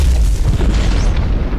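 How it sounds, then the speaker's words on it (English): A deep, heavy explosion booms in the anime Attack on Titan, a loud low rumble with a rolling tail that sustains over its brief length. "Explosion. The Titans are attacking."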